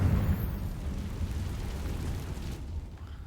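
A Confringo spell explodes in Hogwarts Legacy as a loud, dense burst that rolls into a sustained roaring rumble, holding steady before thinning out toward the end.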